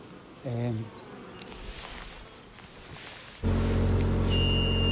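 A steady buzzing of bees held in a pillowcase drones throughout, with a brief tonal hum early on and the buzz growing louder and fuller toward the end.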